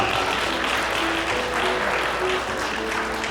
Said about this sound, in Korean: 여러분 축복의 박수 한번 건네주시기 바랍니다.